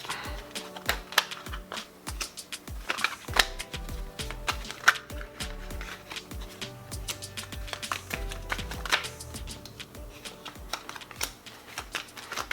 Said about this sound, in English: give it a little variety, you know, switch it up a little bit and allow you to see the shuffling as well